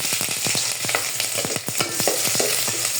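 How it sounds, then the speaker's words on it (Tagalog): Garlic and onion sizzle steadily in a hot pan for a sinigang sa miso, with repeated sharp clicks of a spatula stirring against the metal and no talk. "First, let's saute garlic."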